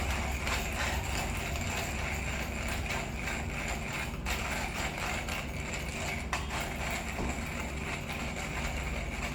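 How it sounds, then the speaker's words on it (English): A manual coffee grinder crunches coffee beans in a steady, continuous grinding rattle with a ratchety mechanical texture, close and fairly even throughout, with no talking. "here I just use a manual grinder and also kind of a workout for me"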